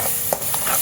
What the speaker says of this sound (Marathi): छान परतून घेऊया.